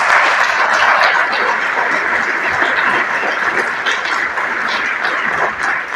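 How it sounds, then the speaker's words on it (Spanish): Audience applause fills a festival hall, a steady dense wash of clapping that stays loud and unbroken from start to finish. "Creo que a Cristina hay que darle muchos más aplausos"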